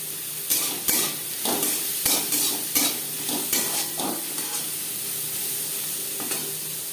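Onions seasoned with turmeric powder and salt fry in a pan with a constant sizzle, while a utensil stirs and scrapes at a steady, repeated pace, close and fairly loud, with no talking.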